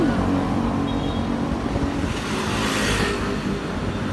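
Cars pass along a road in a continuous broad rush of engine and tire noise, one swelling a little louder near the middle, with no voices.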